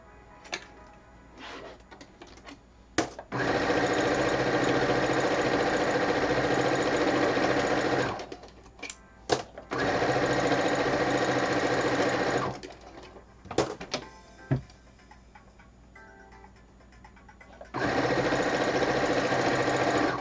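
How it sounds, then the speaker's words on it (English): A sewing machine fitted with a J foot stitches in the ditch on binding, running in several steady, even bursts of rapid mechanical stitching with short pauses between them, close and clear. "And now I'm using my J foot so I can see what I'm doing to stitch in the ditch."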